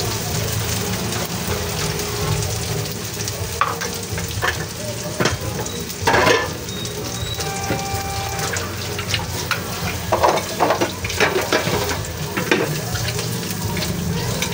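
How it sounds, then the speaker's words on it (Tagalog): Steady frying sizzle of fish balls and chicken balls, with crackling pops and occasional stirring clatter, continuous and close, no talking. "Hintayin po natin na maprito yung ating kikiam at ang ating chicken balls."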